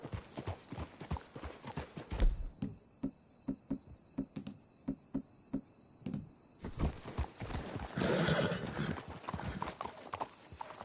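Hooves clip-clop in a steady walking rhythm, close by, then a louder rustling burst near the end; a faint whinny may be in there.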